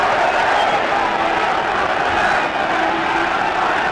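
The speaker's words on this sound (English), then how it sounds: "listen to this crowd. Plenty of support from the Belgians." Large football stadium crowd backing Anderlecht in a European Cup Winners' Cup quarter-final away at Wrexham, a loud, steady roar of massed voices and chanting that fills the air, with a commentator talking over it.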